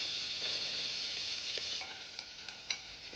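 Green chillies, crushed spice paste and curry leaves sautéing in a pan, giving a soft, steady sizzle with a few light stirring clicks near the end, close and fairly quiet.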